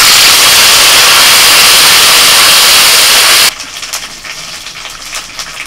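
Ginger and green chili paste sizzles in hot oil already tempered with bay leaf and garam masala. A loud, dense hiss runs steadily, then abruptly drops to a softer crackle.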